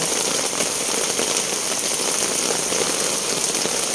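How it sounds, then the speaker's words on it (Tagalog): Heavy rain pours steadily, a dense, loud hiss of drops hitting surfaces with no letup. "Lakas ng ulan."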